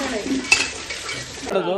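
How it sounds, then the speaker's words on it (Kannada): Pots, pans and cutlery clink and scrape during dishwashing at a family home on a naming-ceremony day, with one sharp metallic knock amid continuous handling noise and faint voices in the background. "ಪಾತ್ರೆ ತೊಳಿತಿದ್ಯಾ ಹಂಗೆ"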